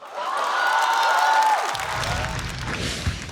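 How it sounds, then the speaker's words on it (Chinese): Studio audience applause at a Chinese stand-up comedy competition, dense clapping swelling as a performer is introduced, with a musical sting sweeping over it before the clapping carries on more loosely. "掌声有请"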